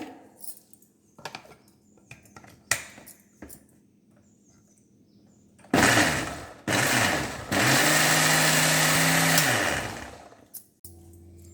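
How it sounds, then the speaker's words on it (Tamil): A mixer grinder whirs loudly in short bursts grinding groundnuts with water for curry, then runs steadily with a rising pitch before stopping, after some quiet kitchen clatter. "கொஞ்சம் மிக்ஸி அடிச்சுக்கலாங்க."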